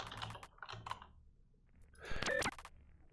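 Keys clacking as numbers are typed into the game The Message from Deep Space, a few short close bursts of typing separated by a quiet pause, then a final quick flurry of keystrokes.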